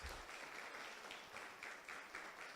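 A church congregation claps in warm, steady applause, a dense patter of many hands that is fairly faint and slightly distant, with no voices over it.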